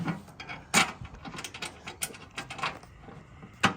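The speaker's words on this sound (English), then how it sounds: "I'm gonna go ahead and put this on with the 4 included Allen screws." Allen screws fastening a skid plate on a Toyota Sequoia or Tundra give faint, irregular clicks and small metallic taps close by, with scattered sharp ticks and no talking.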